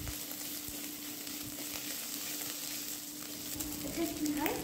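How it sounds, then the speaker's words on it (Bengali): Ginger paste fries in a pan for a tamarind tangra fish curry, giving a steady, soft, continuous sizzle close by, with a few faint stirring sounds. "এবারে আদা বাটাটা আমি খুব ভালোভাবে একটু কষিয়ে নেব।"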